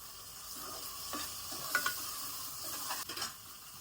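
A spoon stirs chicken curry with ginger-garlic paste in a pan, giving faint scraping strokes over a soft, steady sizzle with a few light clinks, and no voices.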